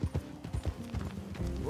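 Horse hooves clip-clop in a steady walking rhythm across the ground in Red Dead Redemption 2, mixed with a low rumbling ambience and a faint voice.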